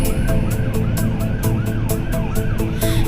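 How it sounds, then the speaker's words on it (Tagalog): An ambulance siren wails on a road with a rapid, repeating rising yelp pattern, loud and close, over a steady vehicle rumble. "kasi may ambulansya."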